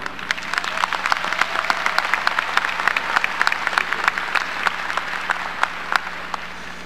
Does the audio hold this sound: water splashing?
no